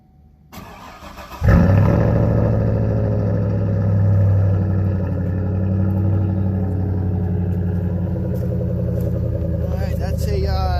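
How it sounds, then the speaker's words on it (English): A Chevrolet Silverado makes a smoky cold start at 8 degrees: after a short starter crank the engine catches with a loud exhaust roar, then settles into a steady, rumbling high idle close to the listener. "that's a 9-degree cold start"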